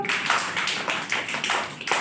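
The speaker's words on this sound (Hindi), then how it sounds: "दोनों हाथ से ताली बजाओ" A group of children clap with both hands in a quick, steady rhythm during a classroom activity, each clap distinct and moderately soft, with no talking over them.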